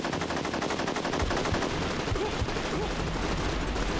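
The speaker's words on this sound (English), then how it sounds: "Oh, now we have an AK." Rapid automatic AK rifle fire from the video game Unearthed: Trail of Ibn Battuta, a loud, dense, continuous burst that runs unbroken from start to finish over busy game audio.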